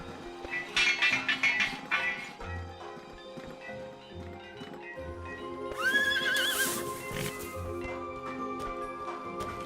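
A horse whinnies twice with a rising, shrill call in the video game Kubifaktorium, amid clopping hooves and faint clinks over a steady background hum.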